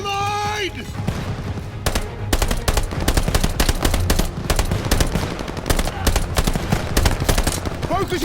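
Sustained machine gun fire in a Call of Duty battle, dense bursts of rapid automatic shots mixed with other gunfire, loud and continuous throughout.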